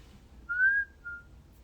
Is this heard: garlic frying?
no